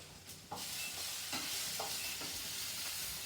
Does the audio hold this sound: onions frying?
yes